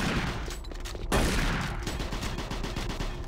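Rapid gunfire in the first-person shooter Doom 3 on Switch: a loud burst hits at about one second, followed by a steady rattle of repeated shots that keeps going to the end, close and dense, with no talking.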